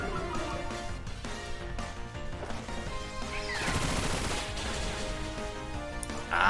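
A Bullet Seed attack in Pokémon Scarlet fires as a rapid rattling burst of pelting hits over game music, with a crashing swell midway, moderately loud.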